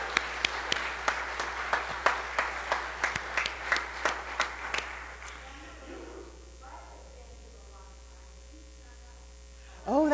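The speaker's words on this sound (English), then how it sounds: "Let's give us all ourselves a round of applause." A church congregation claps in a sparse, rhythmic round of applause for several seconds, then it fades to a quiet room with electrical hum and brief murmured talk.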